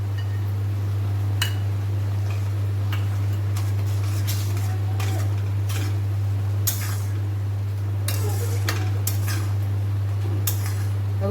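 Bottle gourd halwa being stirred and roasted in milk in a pan: scattered spoon scrapes and light metallic clinks over a constant low electrical hum, with no talking.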